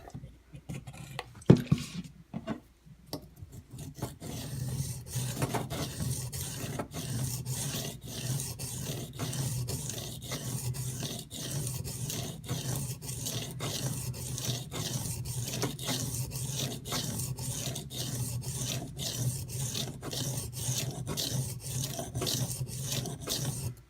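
A D2 steel knife blade is stroked over a sharpening stone in a steady rhythm of rasping scrapes, repeating roughly every second for a long stretch, close and moderately quiet.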